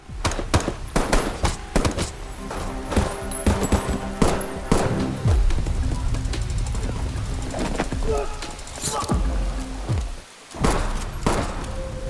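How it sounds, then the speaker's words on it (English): Dense gunfire in a movie firefight as a strike team storms a building, rapid bursts of shots and thuds, loud and continuous, with a narrator talking over it. "Johnny arrives with a strike team and the firefight erupts."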